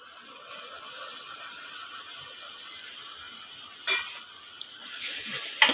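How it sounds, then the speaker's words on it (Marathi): Tomatoes sautéing with softened pink onions in a pan for mutton keema, a faint steady sizzle with light stirring and a few scraping clinks of a utensil toward the end. "टोमॅटो सुद्धा आपल्याला छान अशा आतमध्ये मऊ होईपर्यंत परतून घ्यायचे आहेत"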